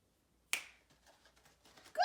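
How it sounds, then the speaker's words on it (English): A single sharp finger snap in a quiet kindergarten math lesson, close and crisp, followed by soft rustling and a faint room tone before another sound starts at the very end. "until I snap my fingers"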